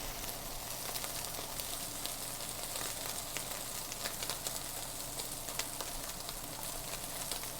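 Wagyu steak sizzles in butter in a pan, a steady close crackle of frying with fine spitting pops throughout and no talk.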